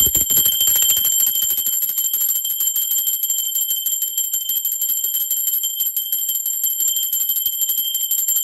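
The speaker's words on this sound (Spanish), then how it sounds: "Va campana" A small bell rung to open a spiritual tarot reading, its bright ringing tone sustained and slowly fading across the whole stretch, steady and close with no voices.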